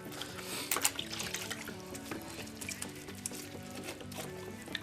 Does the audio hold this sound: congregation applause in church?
no